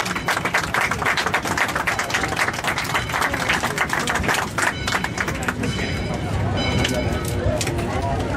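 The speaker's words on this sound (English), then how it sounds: "Let's give them a round of applause." A crowd aboard the Sugar Pine Railroad claps for the locomotive crew in a steady, dense patter of applause that runs throughout, with voices mixed in.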